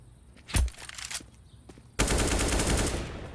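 UMP submachine gun fire in a CS:GO pro match at the PGL Major Krakow 2017, first a few sharp isolated shots, then a sustained rapid burst at close range.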